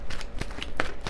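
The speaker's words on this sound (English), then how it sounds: "Let me shuffle a little bit more." Oracle tarot cards are shuffled in short, quick bursts of papery flicks and slides, close and moderately loud, with no voice.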